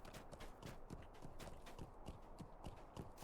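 Horse hooves clip-clop at a steady walking rhythm in The Lord of the Rings Online as a horse trots deeper into a forest, repeated even beats at moderate volume over a soft game ambience, with no talking.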